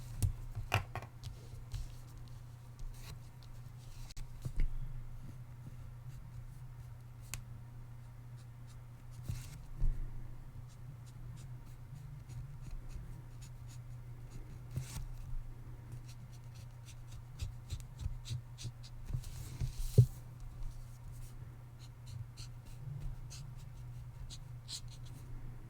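Markers scratching and squeaking across paper while a realistic pumpkin is being colored, faint and close, with intermittent strokes and taps over a steady low hum.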